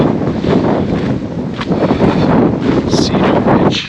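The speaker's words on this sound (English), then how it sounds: "Pretty windy today actually." Wind gusting at Cedar Ridge on a Grand Canyon hiking trail, loud rushing and microphone buffeting throughout, close and continuous.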